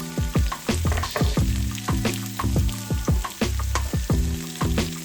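Ginger and garlic frying in a quarter cup of cooking oil in a wok, a steady close sizzle with crackling pops and bursts of stirring or scraping throughout, no talking.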